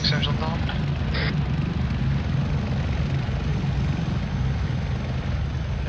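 A helicopter in the military video game Arma 3, on an AltisUnity roleplay server, keeps up a steady, loud rotor and engine rumble throughout, with voices talking over it.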